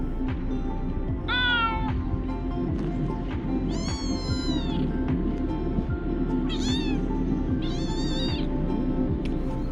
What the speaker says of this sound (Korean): 고양이 새끼 소리를 누릅니다.